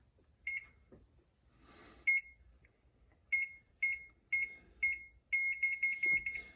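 Oven control panel being set to 500°F, a series of short, sharp electronic beeps, single at first and then a quick run of them, close and clear in a quiet room.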